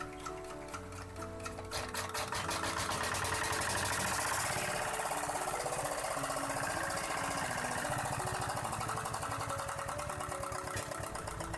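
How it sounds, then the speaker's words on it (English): A diesel engine being started after a clogged combustion chamber hole was addressed, cranking briefly and then settling into a fast, steady clattering idle, close and loud throughout. "And look this, the diesel turn on."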